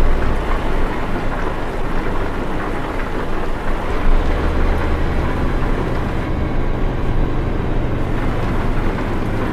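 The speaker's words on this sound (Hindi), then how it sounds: "बारिश तो बहुत तेज हो गई।" Heavy rain drumming steadily on a truck in Euro Truck Simulator 2, a Mack Anthem 70 Sleeper 505 hp hauling a container. The downpour is a loud, dense, continuous hiss with a low rumble beneath it, and no one speaks.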